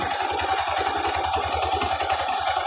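A car engine fitted with a timing chain idles steadily, its low rhythmic pulsing thrum running evenly throughout at close range, with no voices over it.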